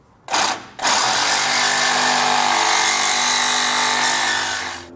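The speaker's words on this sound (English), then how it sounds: "So the Sawzall ended up working out pretty good for us here." A Sawzall reciprocating saw cuts through metal during an Air Lift LoadLifter 5000 air helper spring installation, a loud, steady buzzing drone running nearly continuously after a brief start-stop at the beginning.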